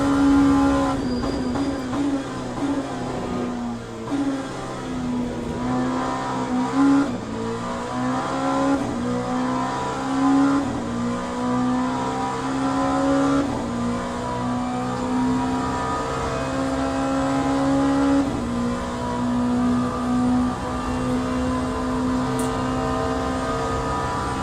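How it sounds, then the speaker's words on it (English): Race cars in the Le Mans Ultimate racing game roar steadily, with a loud, continuous engine whine that climbs and dips through gear changes as a faster car closes in, no voices over the engine noise. "There's a faster car approaching."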